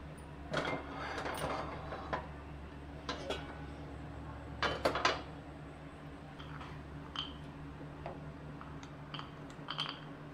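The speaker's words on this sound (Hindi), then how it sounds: "और दूसरा कढ़ाई को चढ़ाते हैं" A kadhai (wok) being set on the stove in a home kitchen: faint metallic clinks and knocks come now and then over a low, steady background hum.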